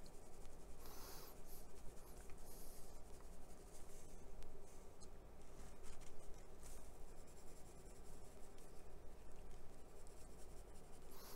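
Steady scratchy scribbling of an AK weathering pencil tip dragging across a damp surface, continuous and close, with no voices.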